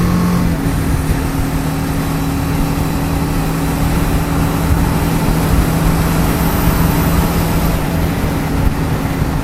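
A 2018 BMW G310GS single-cylinder motorcycle on a short commute hums steadily under loud wind noise, its engine tone shifting slightly as it pulls away, with no speech.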